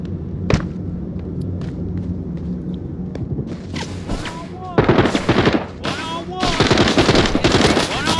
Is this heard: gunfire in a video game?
yes